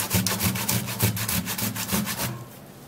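Skin is scrubbed with a homemade scrub, a close, rhythmic rasping rub repeating in quick back-and-forth strokes for about two seconds before stopping.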